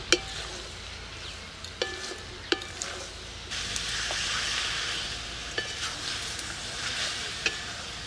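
Chicken is stirred in a pan, with intermittent clacks and scrapes of a spatula over a low sizzle that grows louder and denser midway, then eases back.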